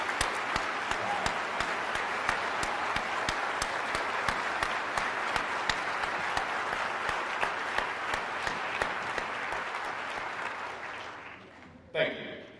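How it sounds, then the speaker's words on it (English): Audience applause at a Marine Corps recruit graduation for Bravo Company, 1st Recruit Training Battalion, a steady broad wash of many hands clapping that continues evenly, then fades out and stops just before the end. "Ladies and gentlemen, a round of applause."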